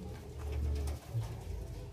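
Bangkok zebra doves (perkutut) coo in a low, rolling call, one close phrase stretching through the first second and a shorter note following, with no talking.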